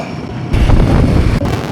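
Loud, steady rumble of a metro train rolling past nearby, with broadband roar and wind buffeting, briefly dipping near the end.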